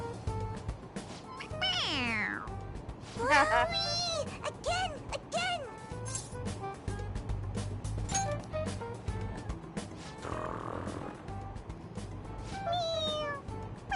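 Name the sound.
toy cat meowing when pressed, from video game Persona 5 Royal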